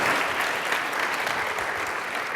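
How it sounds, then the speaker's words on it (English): An audience at a business conference fireside chat gives a brief burst of dense, steady applause from many hands before the talk begins. "So give a round of applause and we'll get started."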